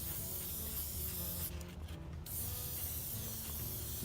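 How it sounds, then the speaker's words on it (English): An airbrush sprays chrome metallic paint in a close, continuous hiss, with a brief breathy change partway through as the spray is adjusted. "spray through any residual from cleaning the airbrush"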